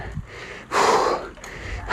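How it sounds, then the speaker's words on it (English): Heavy, rough panting from a rider pushing a bike uphill on a ride to waterfalls in the Philippines: two loud, close breaths with quieter breathing between them. "Back to the panting ASMR."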